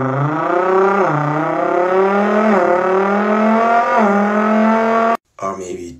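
A voice imitates the Nissan GT-R R35's VR38 engine, droning and revving in steady rising pulses for about five seconds before cutting off sharply, then a short faint burst.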